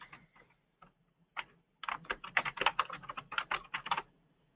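Fast typing on a computer keyboard, a few scattered keystrokes and then a dense close burst of rapid clicks, quiet overall with no talk.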